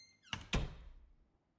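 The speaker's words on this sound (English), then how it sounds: "Let's go out the door." A door in the video game Bakery Simulator swings open, making a faint two-part clunk: a light knock followed by a heavier thud that fades quickly.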